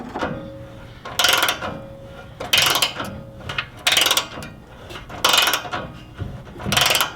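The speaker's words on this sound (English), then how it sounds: "then we're going to install this first bolt" A bolt ratcheted into a rock slider on a Toyota Tacoma, loud bursts of rapid ratchet clicking repeating every second or so, separated by quieter pauses and faint metallic handling.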